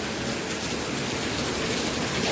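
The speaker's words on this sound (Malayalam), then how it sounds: "നല്ല മഴയാണ്" Heavy rain pours down steadily in a dense, continuous hiss with no pauses or voices.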